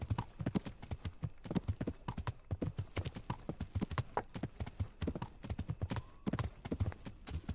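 Horse hooves clip-clop at a steady galloping rhythm while a player rides toward an upper castle in Kingdom Come: Deliverance, a medieval video game, with close, continuous thuds throughout.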